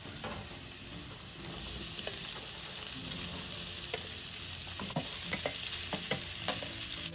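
Pork hits a hot pan and sautés with a steady, fairly quiet sizzle, punctuated by occasional clicks and scrapes of stirring, no voices over it.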